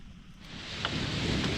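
Steady rain falls on a jungle track in Mozambique, a continuous broadband hiss that swells slightly louder as it goes on, with no voices.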